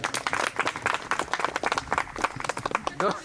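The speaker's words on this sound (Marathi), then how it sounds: "जोरदार टाळ्या झाल्या पाहिजे" A crowd at a school teachers' reunion claps warmly to honour a teacher, dense rapid applause throughout with voices mixed in.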